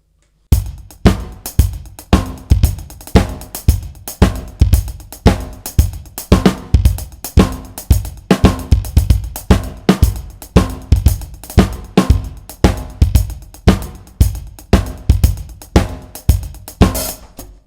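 A drum kit plays a steady, driving sixteenth-note disco groove with a regular kick pulse and busy hi-hat subdivisions, loud and continuous with a few fills.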